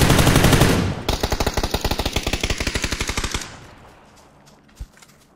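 Rapid automatic gunfire from a player shooting an enemy in a video game, a loud steady burst of evenly spaced shots that stops abruptly, followed by a quieter lull with a single sharp knock.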